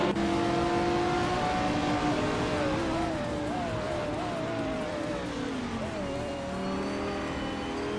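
Race cars in a racing video game speed and jostle for position, engines whining and shifting pitch continuously through the whole stretch, loud and steady with occasional tire noise as cars overtake.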